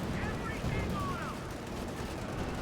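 Machine gun fire in the Company of Heroes 2 real-time strategy game, a dense continuous crackle of gunshots mixed with battle noise, with a commentator talking over it throughout.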